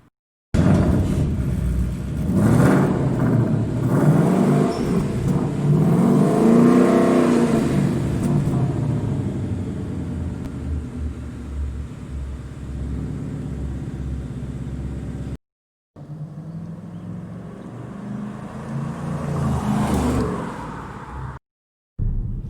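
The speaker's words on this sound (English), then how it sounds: "hopefully you can hear the rumble of the V8" A deep V8 engine rumble from a Ford Mustang 5.0 GT Fastback, swelling and easing with revs, loud and close, with two short breaks near the end.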